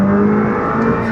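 A modified Honda Civic Type R FK2 turbo pulls hard from second gear on an open road, its engine drone loud and close inside the cabin for about a second, with no talk.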